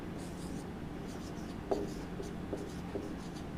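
A heading written on a classroom board during a Class 10 physics lesson on lenses, heard as soft scratchy strokes and a few taps close by, under a faint room murmur.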